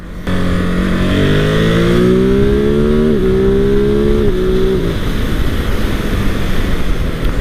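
A 2021 Ducati Monster 950 motorcycle roars loudly and steadily while being ridden, its engine note climbing through gears with brief dips at each shift, all under constant rushing wind.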